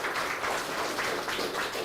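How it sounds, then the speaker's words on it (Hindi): A gathering of farmers and agricultural officials at an outdoor village forum gives a round of applause, a brief, soft, continuous patter of many hands clapping, somewhat distant and faint. "एक बार जोरदार से तालियां भाई अपने आप के लिए"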